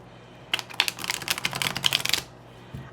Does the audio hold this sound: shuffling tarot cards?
yes